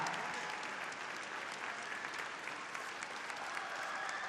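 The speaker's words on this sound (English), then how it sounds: "The medalist from last night leading the applause." Arena crowd applauds steadily after an ice dance rhythm dance at the European figure skating championships, a dense, even wash of clapping that holds for the whole stretch with faint commentary underneath.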